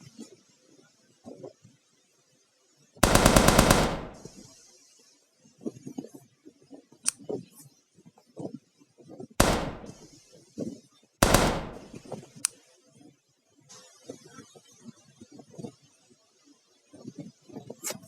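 Gunfire in the mobile sandbox game Melon Playground: loud, close bursts of rapid shots, one long volley followed by two shorter ones, with quieter clicks and taps scattered between them.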